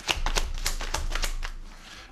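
Tarot cards are shuffled close by in quick, riffling bursts of crisp papery slaps, about eight in a row, fading out toward the end with no talking.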